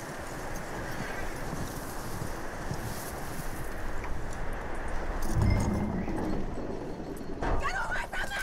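A skittish horse in Red Dead Redemption 2, its hooves and snorts blurred into steady outdoor wind noise, with a brief louder thump midway and a short whinny-like cry near the end.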